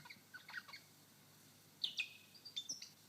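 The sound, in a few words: lyrebird mimicking a crimson rosella call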